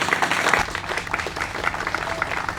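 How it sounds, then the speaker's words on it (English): Applause from an audience at an outdoor historical marker dedication ceremony honouring Duane Eddy, a steady patter of many hands clapping at close to moderate distance, continuing throughout without voices on top. "We can get a clap for Dee."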